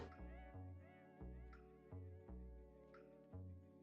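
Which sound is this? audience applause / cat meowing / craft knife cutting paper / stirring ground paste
cat meowing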